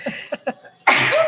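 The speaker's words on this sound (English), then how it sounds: "I'm going to sneeze." After a few short breathy intakes, one person lets out a sudden, loud, explosive sneeze close by, bursting out after a brief pause and trailing off into a noisy exhale.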